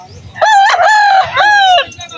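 A rooster crows nearby at a Sunday poultry market in San Jose del Monte, Bulacan, a loud drawn-out call in several rising and falling segments, with faint background noise around it.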